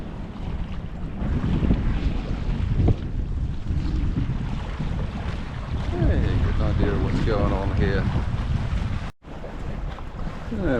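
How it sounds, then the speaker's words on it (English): Wind gusts buffet the microphone aboard a small boat crossing Brisbane Water bay, a steady rumbling roar with water wash beneath, continuous and close throughout with a brief dropout near the end. "Wind's coming in a bit stronger now."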